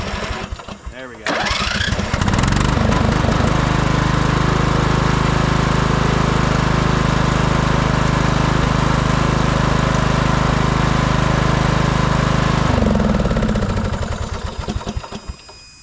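A 1998 Craftsman LT1000 lawn tractor engine cranks over with choke, catches and runs loud and steady at close range for about ten seconds, then cuts off and winds down.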